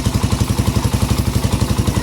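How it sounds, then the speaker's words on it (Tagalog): A Honda Raider 180cc motorcycle engine with a 30mm carburetor runs close by, a fast, steady, even pulsing idle with a slight clattery mechanical edge. "Check nyo yung tunog ng makina, napakatahimik."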